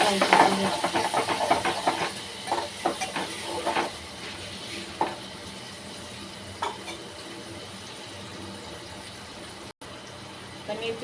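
Green chillies sizzling in hot oil in a pan while making a Maharashtrian gram-leaf bhaji, a loud hiss at first that settles into a quieter, steady fry with scattered crackles.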